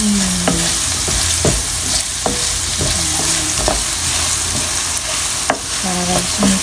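A spatula stirs braised ground pork with potato and pepper in a pan, scraping in a series of distinct strokes over a steady sizzle, with no talk.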